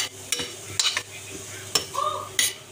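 Onion and green chilli fry in a pan while a utensil stirs and scrapes, giving a soft sizzle under a few scraping strokes at uneven intervals, close by, with no talking.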